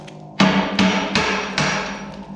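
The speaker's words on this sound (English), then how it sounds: "just get the old hammer." A hammer strikes the bolts on a snow plow's cutting edge four times in an even rhythm, each blow a sharp metallic clank with a short ringing decay, close and loud.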